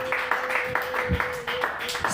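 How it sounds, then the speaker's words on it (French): Church congregation applauding, a soft, fairly distant patter of rhythmic handclaps with a sustained tone and voices underneath. "Applaudissez encore pour le roi des rois."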